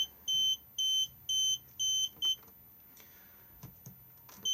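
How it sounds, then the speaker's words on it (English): An Auto-Trail 2021 Imala 615 motorhome fridge control beeps five times in a steady rhythm, clear but quiet, followed by faint handling clicks, with no talk. "So if I press this at the moment, it's going to beep at us"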